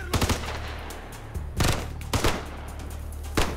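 Bursts of gunfire in the video game Ghost Recon Future Soldier, several loud clustered volleys of rapid shots separated by brief pauses, with no talking over them.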